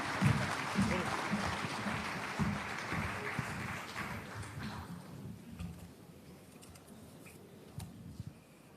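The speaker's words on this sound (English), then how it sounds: "Please give him a round of applause, ladies and gentlemen." Audience applause at an economic summit, a dense crowd clapping for about five seconds before thinning out into scattered claps and room noise.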